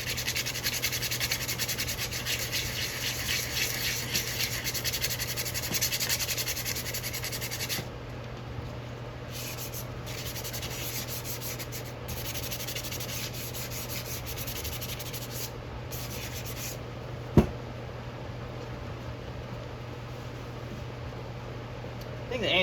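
A hatchet handle is sanded by hand with steady, rapid rubbing strokes, close and fairly quiet, pausing a few times, with one sharp knock partway through.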